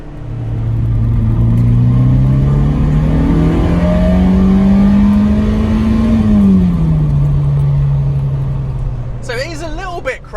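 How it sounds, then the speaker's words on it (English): A Fiat X1/9 mid-engine car pulls hard through the gears, its engine note climbing steadily, dropping at a shift and then holding, loud and close inside the cabin, with a brief voice at the end. "we'll do a pull through the gears"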